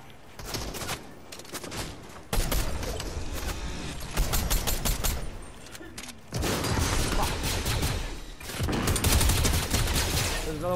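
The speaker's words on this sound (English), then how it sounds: "He's shooting at me right now" Fortnite gunfire, dense rapid bursts of shots in several long volleys with short lulls between, loud and close, with a player's voice faintly mixed in at times.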